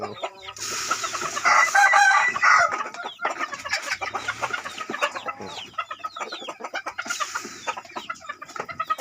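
Mixed-breed chickens from a Thai hen and a Leghorn rooster: a rooster crows loudly twice, near the start and near the end, while hens cluck busily in between.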